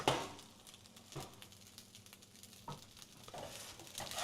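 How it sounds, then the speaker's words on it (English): Rice sizzles in a non-stick pan, a faint, steady hiss with scattered soft pops and crackles, heard alone. "The rice is starting to sizzle."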